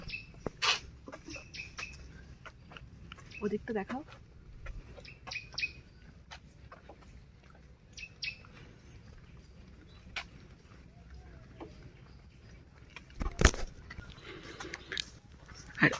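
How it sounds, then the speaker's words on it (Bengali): Scattered bird chirps and calls near the Ichamati river, faint and intermittent against a quiet outdoor background, with a brief exchange of talk and a few sharper noises. "যত ভেতরে যাচ্ছি তত আরও পাখির আওয়াজ আরও নতুন ধরনের সব পাখির কলতান শোনা যাচ্ছে"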